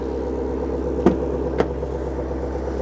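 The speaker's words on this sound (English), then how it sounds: "you notice the change in pitch. That is actually the variable exhaust." A 2018 Chevrolet Camaro ZL1 idles with a steady low rumble through its variable exhaust, broken by two short, sharp clicks partway through.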